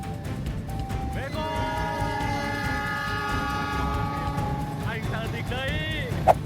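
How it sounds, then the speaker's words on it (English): A train rumbles along steadily while a long multi-tone horn sounds for several seconds, then blares again briefly near the end. "there's a train on my track"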